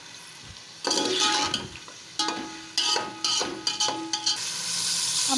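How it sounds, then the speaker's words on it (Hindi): Chicken pieces sizzle in a hot pan while being browned for nihari, with intermittent stirring scrapes and clinks of a utensil against the pan, close and fairly loud, without talk. "अब मुर्गी के गोश्त को थोड़ा सा भूनेंगे"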